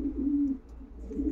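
Homing pigeons coo in a loft, a few soft low throaty coos close by in a quiet room, with no one talking.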